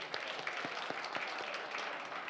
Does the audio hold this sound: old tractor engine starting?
no